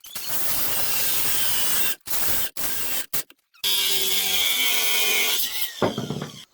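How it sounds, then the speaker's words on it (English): An angle grinder works around a steel pipe on a homemade ice fishing spud: a sustained harsh whine broken by a few brief stops, then restarting as a steady, close grinding roar. "I'm just going to go around with an angle grinder until it's able to slide in"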